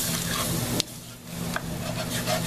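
Vegetables wilt in a hot pan for pork loin steaks and gravy, sizzling steadily while a utensil stirs and scrapes the pan bottom with a couple of sharp knocks, close up.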